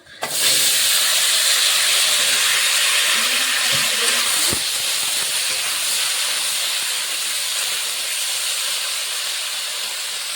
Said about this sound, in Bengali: এখন আলু আর মূলোটা দিয়ে দেবো।